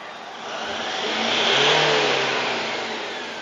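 Toyota Vigo Champ pickup engine revving up to about 3000 rpm, a steady mid-pitched roar that swells toward the middle and eases off slightly, heard close and alone without talk.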